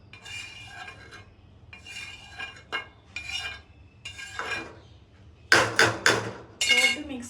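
A fork or spoon clinks against a bowl while mixing onions into beaten egg for an omelette, soft irregular scraping taps that grow into louder, quicker clinks near the end.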